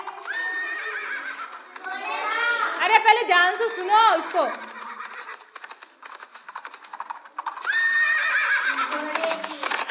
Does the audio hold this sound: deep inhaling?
no